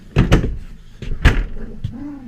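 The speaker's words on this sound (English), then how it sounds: "Good solid door on it." Bathroom door of an Adria Altea 522 PK Sport Tour caravan being handled and shut, giving a few close, solid knocks and thuds with a last softer click, and no voices.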